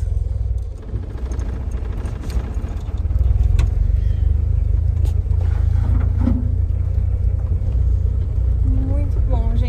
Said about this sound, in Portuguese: Estou conseguindo dirigir a caravana.